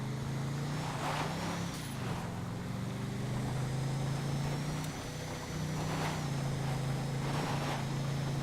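An Invetero Coquette sports car in GTA Online at full throttle, a steady loud engine drone holding one pitch throughout, with faint tire and road noise over the top and no talking.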